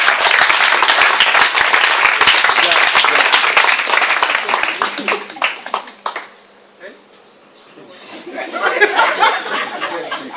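A church congregation claps and cheers loudly for several seconds, then the applause fades into a lull before a second swell of clapping and voices builds near the end.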